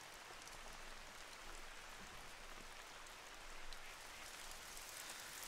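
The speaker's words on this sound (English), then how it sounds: "And now it's starting to rain." Heavy rain pours down in the hunting video game theHunter: Call of the Wild, a dense, constant hiss of falling water with no break and no voices.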